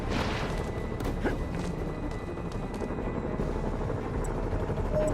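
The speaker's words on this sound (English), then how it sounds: "Bet I can use those helicopters to swing." A helicopter in a Spider-Man video game gives off a continuous, droning rotor thrum that holds steady and fairly loud throughout, with no speech.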